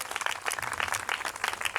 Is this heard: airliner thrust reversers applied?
no